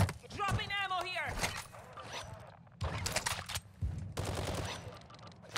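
Bursts of video game gunfire in Call of Duty: Modern Warfare II Warzone 2.0 crackle in rapid volleys while players talk over them.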